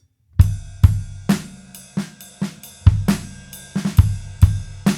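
Drum kit groove from a song, played solo: punchy kick and snare hits with cymbal wash, steady rhythmic pattern of about a dozen strikes, close and loud, no talking.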